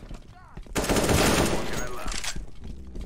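Loud sustained automatic gunfire in the shooter game CS:GO during a co-op mission, a dense rapid burst lasting a couple of seconds with faint game sounds before and after.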